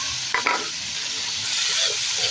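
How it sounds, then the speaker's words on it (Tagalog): Onion and tomato sautéed together in a pan give a loud, close, continuous sizzle, with two quick stirring knocks near the start and the hiss swelling slightly toward the end. "Isabay-sabay natin itong sibuyas sa kamatis."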